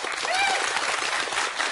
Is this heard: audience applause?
yes